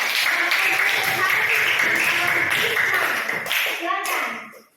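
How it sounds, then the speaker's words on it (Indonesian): Students in a junior high school classroom clap for a group, a lively burst of hand clapping mixed with children's voices that fades away at the end. "Selanjutnya beri tepuk tangan untuk kelompok 3."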